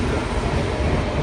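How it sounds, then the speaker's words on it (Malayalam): A train rolls past close by, a loud steady rumble of wheels and carriages filling the whole short stretch, with no voices over it. "ട്രെയിൻ പോയിട്ടാ"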